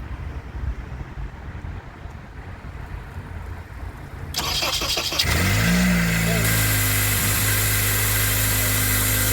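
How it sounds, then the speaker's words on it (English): A 2003 Honda Accord engine cranks and fires after a starter replacement, a sudden burst of noise settling into a loud, steady idle over wind noise at an outdoor repair. "So far the car started now."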